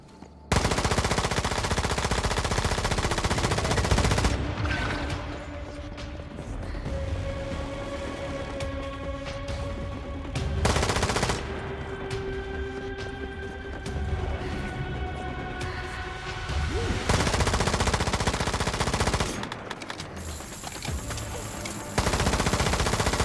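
Machine gun fire from the video game Once Human rattles in dense, sustained bursts, loud and close, layered over steady tonal game ambience with brief gaps between volleys.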